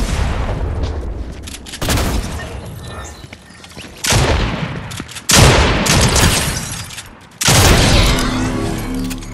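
Gunfire in the video game Fortnite comes in several loud bursts of shots and booming blasts, separated by brief lulls, close and harsh throughout.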